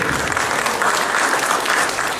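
Audience applause welcoming a speaker at a Peruvian occupational health and safety talk, a steady full burst of clapping from a crowd lasting a couple of seconds with no voices over it.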